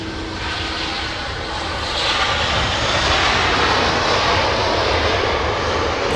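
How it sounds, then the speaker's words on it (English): A United Airlines jet with Rolls-Royce engines roars at an airport, a loud, broad engine rush that swells and holds steady throughout, with no voices over it. "It's good to hear the Rolls-Royce engines, yeah, for once."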